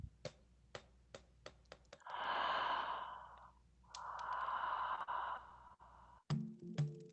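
Two long, deep exhales during a breathwork exercise, each lasting over a second and close to the mic, separated by a pause, with soft clicks and ticks around them and no talk.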